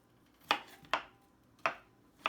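A knife slices fresh strawberries into quarters on a board, four crisp separate cuts spaced about half a second apart, each a short bright tap-and-scrape, close and fairly quiet with no talk.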